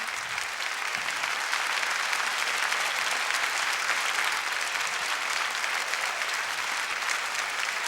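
Sustained applause from a theatre audience at the Théâtre Marigny fills the room at an even, steady level, dense and continuous throughout with no speech over it.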